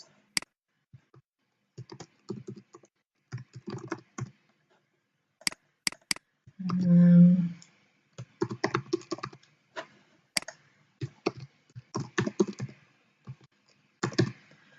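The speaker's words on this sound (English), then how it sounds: "I'll start typing names" Names are typed on a computer keyboard in short bursts of quick, crisp key clicks separated by pauses, close and clear, with one brief low hum in the middle.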